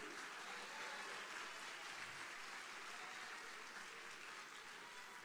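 Church congregation applauding during a sermon, a dense, continuous wash of clapping that stays fairly soft and distant for the whole stretch.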